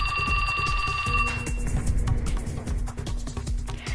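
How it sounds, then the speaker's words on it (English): Cell phone ringtone in the video game 428 Shibuya Scramble: a high electronic ringing tone plays for about a second, then cuts into busier game sound with a low hum and scattered clicks. "the attack came to a sudden halt as the ringtone started him out of his fury"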